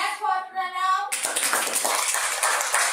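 A group of children claps for a classmate, a brisk burst of small hands following a brief spoken word, lively and close for the last two seconds.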